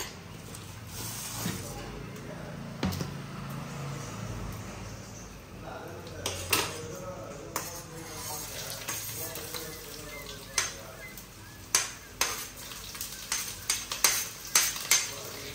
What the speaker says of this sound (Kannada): ಆಲೂಗಡ್ಡೆ ಮೆಣಸಿನ್ಕಾಯಿಯನ್ನು ಹಾಕಿ ಆಲೂಗಡ್ಡೆ ಫ್ರೈ ಆಗೋವರೆಗೂ ಹಿಂಗೆಲ್ಲ ಆಡಿಸ್ತಿರ್ಬೇಕು